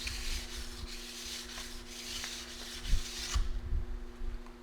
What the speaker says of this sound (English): You'll never change an edge bevel angle with a stone like this if you use it correctly. All you'll end up doing is smoothing and sharpening your edge.